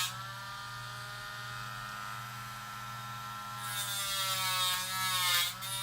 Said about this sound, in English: I'm going to be carefully dremel this.